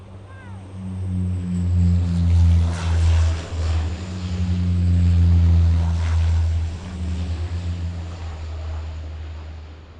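Jet aircraft roll through a loud, continuous rumbling roar at a 2010 airshow, rising and falling in waves over ten seconds with a steady low drone underneath.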